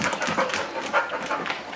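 A diabetic alert dog named Keta pants softly and whimpers during a morning training session, with quick breathy bursts and faint movement noise, fairly close and at low volume.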